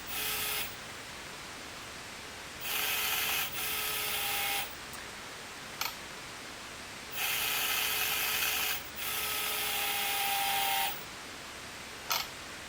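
A percussion-sampling robot's electromagnet lifts a steel-weighted striker, giving repeated bursts of buzzing mechanical whir, each lasting a second or two with short pauses between, then a couple of faint clicks near the end.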